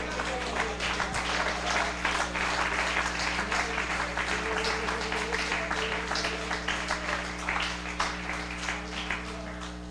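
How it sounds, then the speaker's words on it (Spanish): An audience claps steadily for several seconds, a dense, even patter of many hands over a low electrical hum. "Un aplauso para él."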